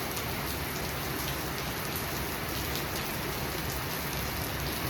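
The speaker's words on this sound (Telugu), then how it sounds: "ఏమి వర్షం వస్తుందో" Steady, dense rain pattering on a surface, continuous and even throughout with no voices.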